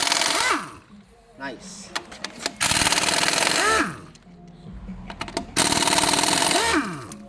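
A high-powered pneumatic impact gun spins lug nuts off a Hummer H2 wheel in several loud, rattling bursts separated by short pauses, with someone talking between them.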